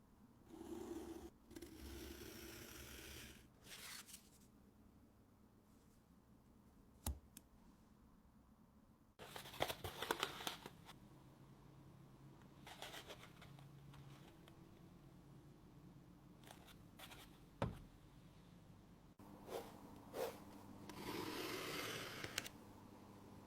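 A cardboard template for a model yacht hull is cut out with quiet, intermittent scraping and snipping strokes separated by pauses and a few sharp clicks, close by with no voices.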